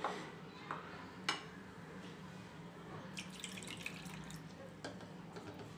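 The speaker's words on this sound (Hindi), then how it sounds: "थोड़ा थोड़ा पानी डालेंगे" Water trickles and splashes into dhokla batter in a home kitchen, a faint, patchy pouring sound with small drips and light clinks of utensils against a quiet room background.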